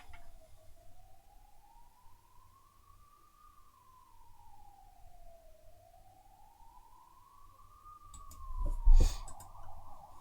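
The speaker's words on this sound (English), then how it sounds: "Ambulance on its way." An ambulance siren wails in a slow rising and falling sweep, fairly clear and steady, then a short louder burst of noise near the end as it passes.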